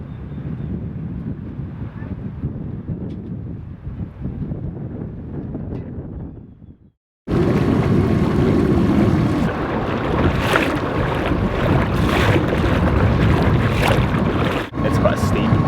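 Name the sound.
strong wind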